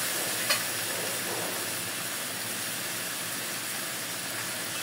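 Spice paste with turmeric, a splash of water and tomatoes sizzles and hisses steadily in a pan while being stirred, a constant frying crackle with one brief scrape near the start.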